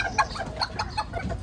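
A Serama bantam chicken clucks in a quick series of short, close, fairly clear notes over faint background noise.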